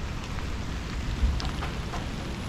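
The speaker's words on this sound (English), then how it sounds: "It is raining. And you can hear thunder." Rain falls steadily during a thunderstorm, a close, even hiss of drops on surfaces with a brief low thump partway through.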